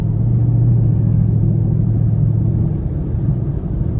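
A loud Ford Mustang engine drives close behind on the road, a deep continuous rumble with a steady low drone and no voices.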